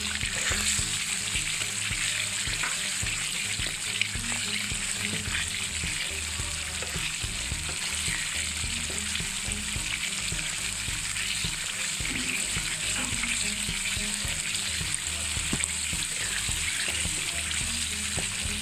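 Eggs fry in a bubbling egg curry masala with a continuous, even sizzle and occasional soft stirring clicks, close and steady throughout with no talking.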